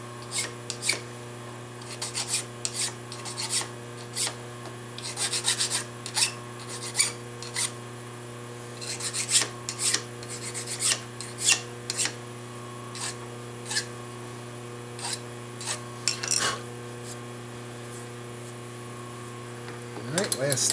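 Hand filing burrs off metal stock for a carriage stop body, a steady series of short rasping strokes, close and fairly loud, over a constant low machine hum.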